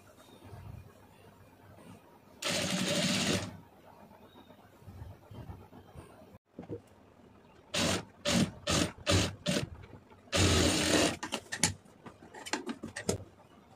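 A sewing machine stitches a blouse neckline in short close bursts, one long whirring run, then several quick clattering spurts and another sustained run, with no voices.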